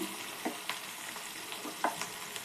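Paste being stir-fried in a pan for mushroom gobi manchurian, with soft sizzling under scattered clinks and scrapes of a spoon, heard alone and fairly quiet.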